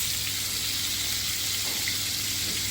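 Spices sizzling in hot oil in a pan for a Bangladeshi snakehead fish dish: a steady, close hiss of frying that runs unbroken throughout, with no talk.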